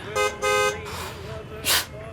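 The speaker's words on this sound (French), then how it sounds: "J'avais jamais utilisé un klaxon avant." Car horns honking in a traffic jam: two short toots close together, then a steady engine and road hum before a third brief blast, fairly near and loud over the rumble of stopped traffic.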